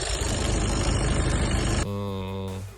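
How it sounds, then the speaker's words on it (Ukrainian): A turbodiesel car engine runs loudly and steadily up close, a dense rumbling roar that shifts to a smoother, lower idle hum near the end. "робота двигуна нормальна, дивності немає"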